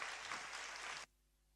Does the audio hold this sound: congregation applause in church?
yes